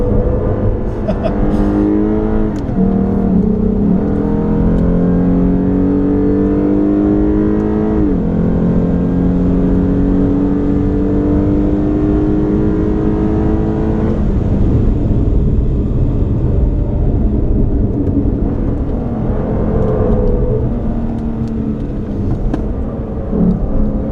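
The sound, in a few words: Lexus RC 350 F Sport driven hard on a track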